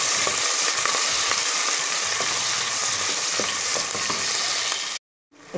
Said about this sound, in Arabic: هحمر البصل